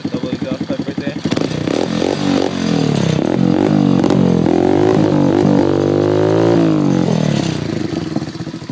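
A small X18 motorcycle with a custom double exhaust pipe putters at idle and then revs up into a loud, sustained buzzing drone close by, easing off near the end.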